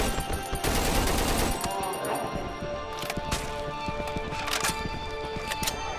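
An M16 assault rifle in the horror game Cry of Fear fires in several rapid bursts of sharp cracks, loud and close, among game sounds.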